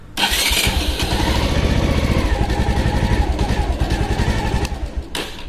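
Motorcycle engine started with the electric ignition button after the kill switch is set, catching quickly and settling into a steady, loud, close idle with a rumbling rhythmic pulse, then a brief click near the end; no talking.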